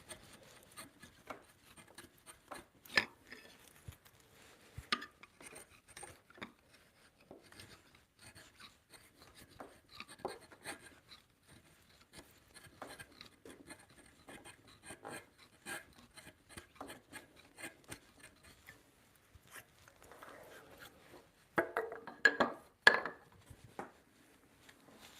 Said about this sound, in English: Tricky to get my chisel in there for that.